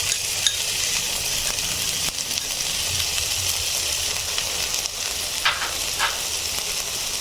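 Ginger garlic paste hits browned onions in a pan for a Bengali chicken and bottle gourd curry, giving a loud, even frying sizzle with occasional stirring scrapes and no speech.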